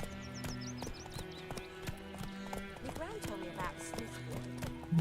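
Horse hooves clip-clop steadily in The Witcher 3: Wild Hunt, a close, regular beat over in-game music and ambience, with a whinny near the end.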